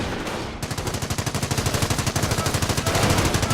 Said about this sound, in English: MG Emplacement is suppressing the enemy.